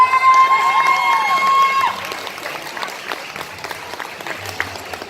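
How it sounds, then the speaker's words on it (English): Audience applause at an Overwatch cosplay competition, a dense crowd clapping that fades out after the first seconds. A voice talks over the start and clapping lingers faintly beneath the hum of the hall. "continue the round of applause"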